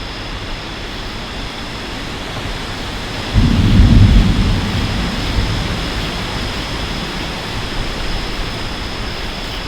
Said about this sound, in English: I like a good thunderstorm, but I don't want trees to come down.